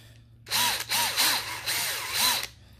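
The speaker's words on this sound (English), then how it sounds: "So as you're drilling," A power drill bores into the rubber of an AK47 extended charging handle, the motor whining in three or four loud bursts over about two seconds, pitch rising and dipping as the bit bites, close and with no talk.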